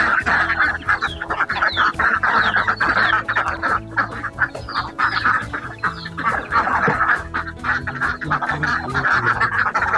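A flock of farmyard ducks quacks loudly and continuously in a village, many overlapping calls at close range with no speech over them.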